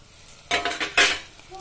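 Ginger, garlic, coriander, chilli and turmeric powders sautéing in a pan, two short bursts of sizzling and spoon scraping against the metal.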